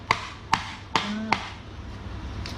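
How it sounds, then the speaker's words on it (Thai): Four sharp knocks at a steady pace, close and distinct, over a low room hum, with no speech. "มีเสียงดังนิดนึงนะครับ มีการเคาะเกิดขึ้น"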